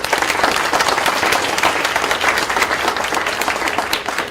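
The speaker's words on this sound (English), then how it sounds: "I think another round of applause" Full, loud conference-hall applause from a large audience, a dense wash of clapping at an even level from start to finish.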